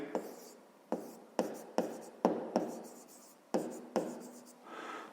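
A math solution written by hand, heard as close, scratchy pen strokes on paper that come in a steady rhythm of about eight distinct strokes, each fading quickly, with no talk.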